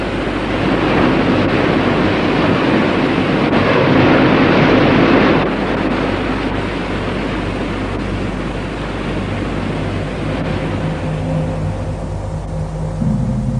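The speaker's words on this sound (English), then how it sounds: "Engines on." Submarine engines run after being switched on in a Japanese science-fiction series, a steady, dense low rumble and rushing hiss that holds for many seconds with no voices over it.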